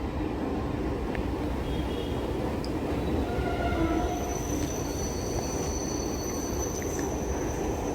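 A suburban MRTS train in Chennai rumbles steadily along elevated rails, a continuous low roar with faint metallic squeals and tones drifting above it, no voices.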